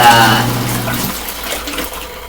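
LG ThinQ MEGA Ultimate washer on a rinse cycle, water rushing and splashing steadily inside the drum with a faint hum, close and fairly loud.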